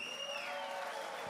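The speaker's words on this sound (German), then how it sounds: "Großer Applaus." Applause from a concert audience honoring an elderly woman's birthday, a steady dense wash of clapping heard at a distance with a faint tonal hum and no talk over it.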